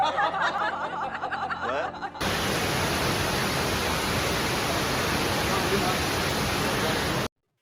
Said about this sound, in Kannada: ನೋಡ್ರಿ ಅಪ್ಪ, ಹಬ್ಬೆ ಫಾಲ್ಸ್ ಹೆಂಗ್ ತುಂಬ ತುಡ್ಕೊಳಕತ್ತದ, ಮ್ಯಾಗ್ಲಿಂದ ನೀರ್ ಬೀಳತ್ತವ್ರಿ ಅಪ್ಪ